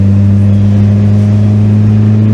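Steady mid-pitched engine hum of a Mazda Miata driving through corners, a constant drone with no speech.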